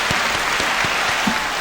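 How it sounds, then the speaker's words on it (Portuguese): A short stretch of steady studio applause on a Brazilian talk show, dense and even throughout with no pauses. "salva de palmas para aí"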